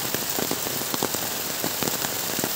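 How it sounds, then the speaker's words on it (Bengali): Heavy rain falls on a village, a loud, close hiss broken by sharp pattering drops hitting nearby surfaces, steady throughout with no voices. "এই বৃষ্টির কিছু ঝলক আপনাদেরকে দেখাচ্ছি"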